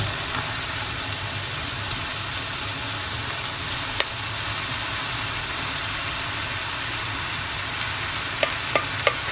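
Cauliflower rice and asparagus fry in a hot pan with a steady, fairly loud sizzle that runs the whole time, broken by a few sharp clicks and taps near the end.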